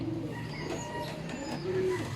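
Racing pigeon from a long-distance derby race in Sinait, Ilocos Sur, giving soft low coos as it lands at the loft, with faint fluttering and background noise; the sound is steady and moderately close.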